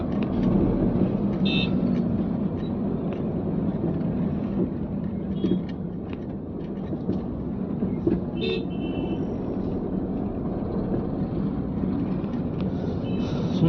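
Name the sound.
road traffic near Hyderabad cable bridge, Madapur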